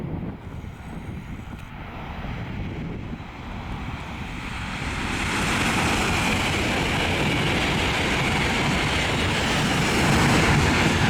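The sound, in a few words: LNER Azuma train passing, Leeds to London King's Cross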